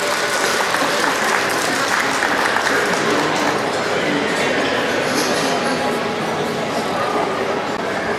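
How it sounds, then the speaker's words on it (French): Sustained applause from a crowd, dense clapping at steady volume throughout, with some voices mixed in. "Bravo, on peut l'applaudir"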